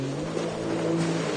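A Yamaha EX jet ski drones steadily at a slalom race, a close, loud, constant engine hum with a slight swell in intensity toward the end.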